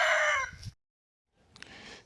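A fighting rooster crows loudly and close by, the call breaking off into a brief silence before fainter clucking and scratchy farmyard sounds follow.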